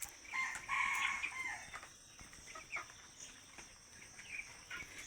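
Farm chickens in a small poultry shed, a rooster crowing loudly near the start and hens clucking in scattered bursts afterward, with a steady fan-like hum underneath and no talking.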